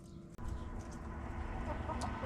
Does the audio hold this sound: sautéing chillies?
no